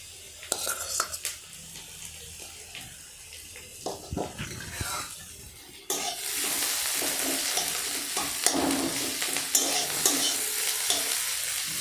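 Mashed boiled potato frying in a pan, first quiet stirring and spatula scrapes, then a sudden loud steady sizzle with repeated stirring knocks for the rest.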